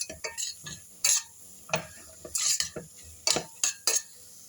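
Flour dry-roasting with carrots in a pan for a mushroom chicken soup, heard as close, irregular scraping and stirring strokes of a spoon against the pan in short bursts, with no talking.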